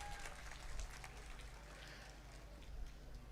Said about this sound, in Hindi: तो इसके लिए भी भरपूर ज़्यादा तालियां होनी चाहिए